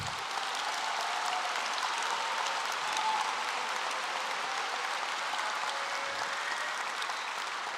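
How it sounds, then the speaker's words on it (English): A large graduation audience at a high school commencement applauds standing parents and guardians, a dense, even wash of distant clapping filling a big hall, steady and unbroken throughout. "We can give them a round of applause."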